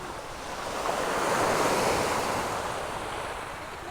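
Strong ocean waves roll and wash onto the shore at a beach campsite in Batangas, a continuous broad roar swelling in the middle and easing off, with wind buffeting the microphone.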